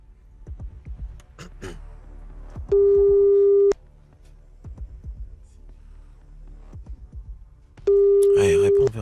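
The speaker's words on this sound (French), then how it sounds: "Allez, réponds, Véronique" Telephone ringing tone during a live call-in on a French radio show, two long steady electronic rings separated by a pause, loud and clear, with studio chatter and background sounds around them.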